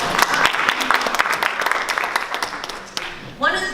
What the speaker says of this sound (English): let's give them an applause for showing up